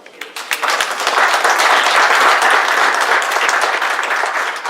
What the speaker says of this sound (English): A big round of applause for all of the volunteers.